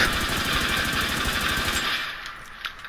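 Sustained rapid automatic fire from an assault rifle loaded with hollow point ammo in The Division 2, a loud continuous rattle for about two seconds before cutting off, leaving a brief quieter tail with a faint pop.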